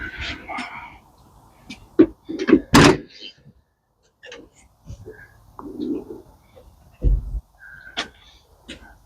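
A car door swings open among a collector's cars, giving a few sharp clunks and latch clicks at close range, with faint chirps and quiet rustling between them.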